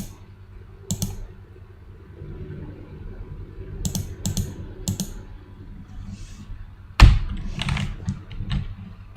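Computer keyboard typing comes in sparse, separate bursts of clicks and key taps, with one sharper, louder thunk midway, set against a quiet room hum.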